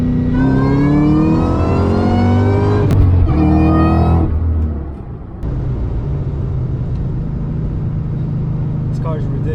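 A Ford SVT Terminator Cobra's engine revs hard and climbs in pitch through the gears, loud and close, then drops and settles into a steadier drone after a brief dip.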